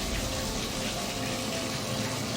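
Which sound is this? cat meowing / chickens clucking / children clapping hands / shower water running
shower water running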